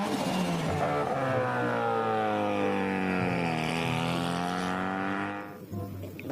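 Toy race car engine sound, a loud, steady revving tone that rises and holds for several seconds, then cuts off abruptly near the end.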